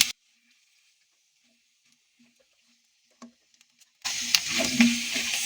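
Fuchka frying in hot oil: near silence for several seconds, then a sudden bright sizzling and crackling bursts in and carries on steadily near the end, with no voices.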